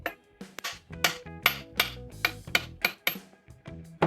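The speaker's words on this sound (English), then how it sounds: "where this little brass hammer comes in handy" A small brass hammer taps a tapered part into place on a drill press being restored, about a dozen sharp metallic ringing blows at an irregular, steady pace, close and alone.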